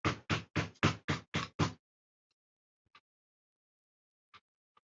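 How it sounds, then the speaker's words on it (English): A little hammer taps stiff parts out during a Roberts Rambler radio restoration: seven quick, sharp, evenly spaced knocks close up, followed by near silence with a few faint isolated ticks. "So I'm just tap these out with a little hammer."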